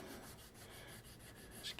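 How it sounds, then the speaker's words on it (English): Soft, close scratchy rubbing strokes of a medium sanding stick on a plastic model starship, a quiet abrasive rasp repeated in quick back-and-forth passes. "give this a bit of a sand."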